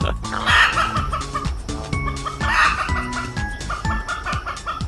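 Chickens cluck close by in short repeated bursts, their calls overlapping, with a brief soft laugh in the mix.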